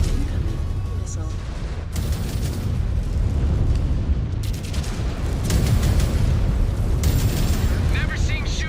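Missile explosions and booming impacts in a MechWarrior game, loud rumbling blasts recurring over several seconds with bursts of weapon fire, while a voice speaks over the battle.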